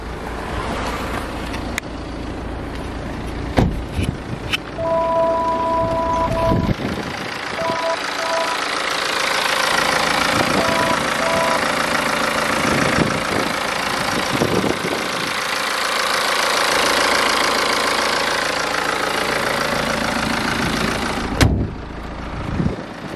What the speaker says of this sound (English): Let's have a listen under the bonnet.